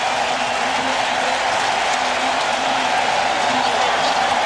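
A football stadium crowd at an NFL game roars steadily and densely throughout, a broad wash of cheering with no breaks.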